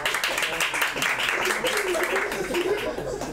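A stand-up comedy audience claps in a patchy, moderate burst, mixed with chuckles and scattered voices, the clapping sitting under a busy layer of crowd noise.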